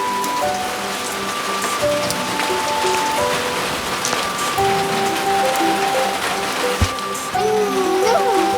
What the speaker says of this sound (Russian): Ты что, дождика боишься?